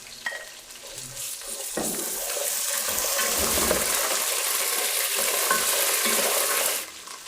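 Garlic paste dropped into a pot of hot ghee with browned onions and chillies, flaring into a loud, steady sizzling hiss while being stirred, then dying down abruptly near the end.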